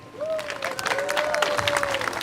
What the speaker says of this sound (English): So give a big round of applause to Mr. Driggers.